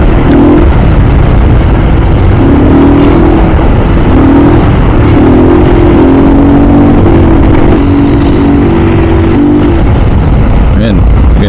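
Dense, loud traffic rumbles along Commonwealth Avenue, with jeepneys and motorcycles droning and revving close by in a continuous engine roar, while someone talks over the noise.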